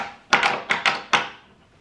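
An old latch door in a period house, giving a cluster of close wooden thunks and rattling clacks, roughly five sharp knocks in quick succession before the sound fades to quiet.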